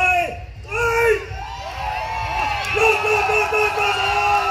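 An outdoor Oktoberfest crowd at a tug of war in Adelaide's gardens shouts and whoops in loud support, excited voices rising and overlapping into a sustained cheering babble.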